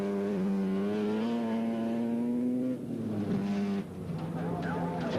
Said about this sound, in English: Winding up in 5th gear.